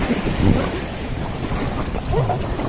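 River rapids roaring and splashing around a raft at Bogamati, a continuous rushing wash of water with wind buffeting close to the microphone and faint voices in the background.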